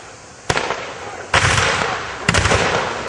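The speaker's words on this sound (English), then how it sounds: "Giant explosion in the far bastion, hurling the bodies of the British invaders through the air." A giant explosion tears through a fort bastion during the siege of Fort Erie: three loud, sharp blasts, each trailing into a rumbling, crackling roar that fills the space between them.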